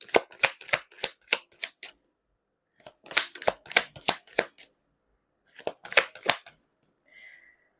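Tarot cards shuffled in quick riffling bursts, three clusters of sharp rapid snaps separated by short pauses, close and clear with no talking.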